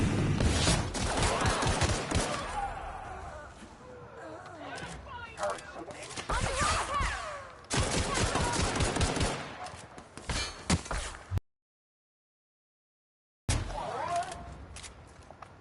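Gunfire from a weapon in The Outer Worlds, rapid bursts of loud shots in quick fusillades with game sounds between them and a brief stretch of silence near the end.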